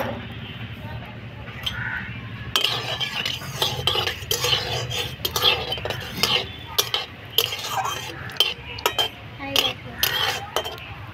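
Dried red chillies and cumin seeds fry in hot oil while a utensil stirs and scrapes the pan, bringing a steady soft sizzle with repeated metallic clinks and scrapes close up.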